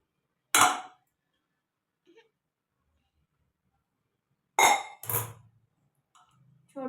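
Metal clinks and clanks from a spoon and a kadhai pan as ghee is added for a carrot dish, two or three sharp isolated knocks separated by silence, with faint quiet sounds in between.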